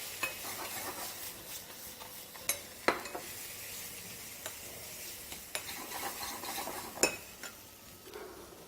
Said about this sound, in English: I cook the spices first so that they can give me the taste I want.